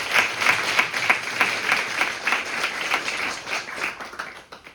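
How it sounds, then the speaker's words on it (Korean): Audience applause at the opening ceremony of a Korean model UN conference, steady rhythmic clapping from a crowd in a hall that tapers off toward the end. "회장님께 다시 한번 큰 박수 부탁드립니다."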